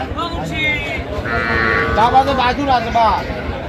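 Cows and calves low and moo several times close by, drawn-out calls overlapping with background voices at a busy cattle market in Raniganj.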